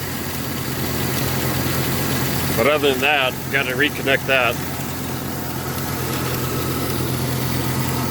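A Jeep engine with an old motor and a slight misfire idles steadily at close range, a constant low rumble running throughout while someone speaks briefly over it.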